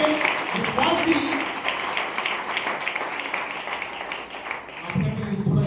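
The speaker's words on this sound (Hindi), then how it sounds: "आपने अपने लिए थोड़ा ज्यादा ताली बजा दी है" A church congregation claps together for a ministry, a dense, steady round of applause that fills the room, with a voice speaking over it at the start and end.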